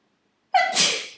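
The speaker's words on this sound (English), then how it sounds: "Sorry, I'm sneezing." A single sharp human sneeze, close and loud, with a breathy burst that fades quickly.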